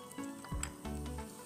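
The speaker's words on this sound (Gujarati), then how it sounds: "તેલ ગરમ થઈ ગયું છે, મેં 1 ચમચી બારીક ચોપ કરેલો કાંદો નાખું છું." Finely chopped onion drops into hot oil in a home kitchen, giving a faint, short sizzle with a soft splatter, no voices.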